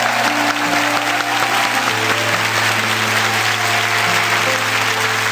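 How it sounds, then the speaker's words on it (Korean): A church congregation at an autumn dawn revival service applauds the children, loud sustained clapping from a large crowd filling the whole stretch without a break. "우리 아이들 한 번 더 큰 박수로 축복합니다"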